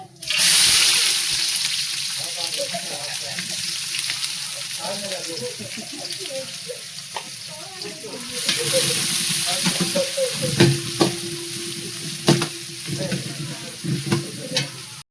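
Chopped onions sizzle in a pan while a spoon stirs and scrapes them in repeated strokes. The steady frying hiss carries throughout, with a few sharper clatters of the utensil near the end.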